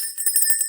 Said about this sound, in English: I'll tell you what, ring the bell here.